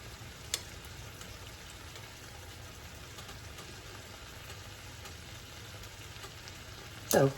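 Shrimp seasoned with Old Bay fry in a pan with a steady, soft sizzle that runs throughout, broken by a faint tap early on and a louder clatter near the end, with no one speaking.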